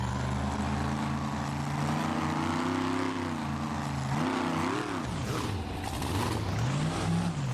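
A car engine in the BeamNG game drones and revs loudly as a car called the AM/PM Rocket lines up to plow into parked cars at a car crush event, its pitch rising and swooping, with no clear impact.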